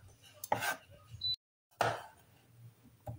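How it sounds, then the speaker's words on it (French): A knife slices potatoes into thin rounds for a gratin with two crisp, close cuts against a board, separated by a short pause and followed by a faint tap. "Après on coupe les pommes de terre un petit peu"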